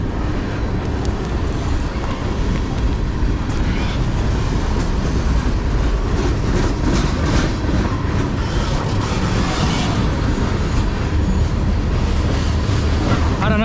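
Fast freight train with a rear DPU locomotive passing close by, a loud, steady roar of wheels and wagons with rhythmic clatter over the rails sustained throughout.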